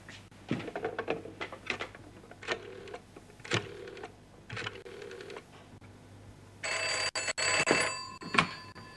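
A telephone ringing in an office-style setting as a call is placed, several separate rings with pauses between them, then a louder, sustained ringing burst near the end, heard fairly close.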